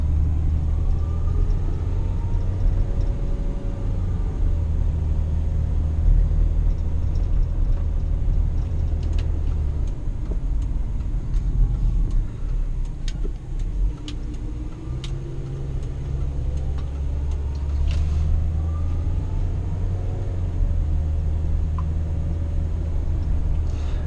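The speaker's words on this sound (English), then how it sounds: "this truck does pretty good just tooting around town" An old truck cruising through a suburban town, its engine a steady low rumble with road noise throughout and faint ticking sounds scattered over it, with no talking.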